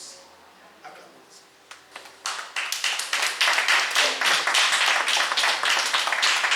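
Congregation in a church breaking into applause, starting with a few scattered claps and swelling into dense, loud, sustained clapping that fills the room.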